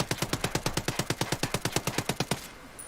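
An MK17 rifle fires on full auto in Ghost Recon Breakpoint, a video game. About eighteen evenly spaced, punchy shots rattle off in a quick steady burst, then the fire stops and a short quiet tail follows.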